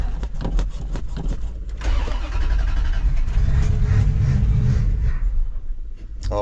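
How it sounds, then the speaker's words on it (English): Old Dodge Ram welding truck engine cranking with rhythmic starter chugs, then catching into a loud, rough rumbling rev that holds steady, close by. "Get the old welding truck in place. Dodge Ram."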